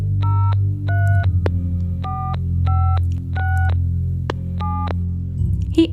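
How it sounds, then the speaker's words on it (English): A telephone ringing in repeated electronic bursts of chirping tones over a steady low hum, close and clear, with no one speaking. "He answers on the 6th ring, just as Magpie is about to hang up."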